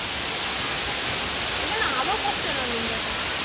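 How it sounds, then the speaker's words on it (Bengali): Broad steady roar of Bamni Falls, a large waterfall in Purulia, with water pouring down on all sides; a constant wash of rushing water fills the whole stretch, with faint birdlike chirps rising over it midway. "এই ঝর্ণা একটা বিরাট বড় ঝর্ণা, চারিদিক দিয়ে জলের আসা, জলরাশি বেয়ে চলেছে"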